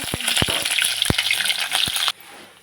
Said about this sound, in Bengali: তেল গরম হয়ে গেছে, এবার দিয়ে দেবো ফোড়ন। দিয়ে দেবো কাঁচা লঙ্কা।